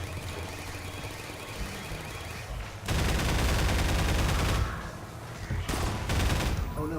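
An enemy fires a shotgun in the video game Half-Life 2: Episode Two, with loud, heavy blasts and a burst of gunfire breaking out midway over a busy game soundscape, while a voice talks quietly underneath.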